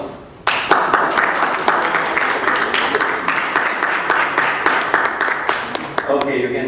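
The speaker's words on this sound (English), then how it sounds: "Applause." An audience applauds at a Pacifica National Board public comment session, with sharp, distinct claps repeating steadily for several seconds at close, fairly loud level.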